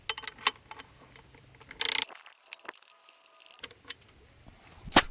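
Three 10mm bolts tightened on the airbox mounting bracket of a Jaguar X-Type 2.0L diesel, heard as scattered metallic ratchet clicks and tool clinks, with a brief louder rattle and a quiet gap mid-way.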